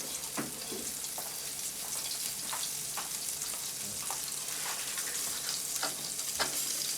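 Continuous crackling sizzle of flatbread frying in a pan, close up, with a few soft clinks and scrapes and no talking.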